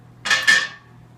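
A thick batch of homemade chili slides from a container into a pot in a short wet plop and splatter, with a brief metallic scrape against the pot.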